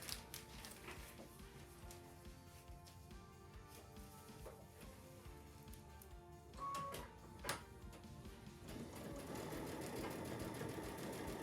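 Industrial sewing machine stitching two stacked fabric panels together for a lattice flower quilt, a steady mechanical whir running throughout with a few sharp clicks and a louder, busier stretch near the end.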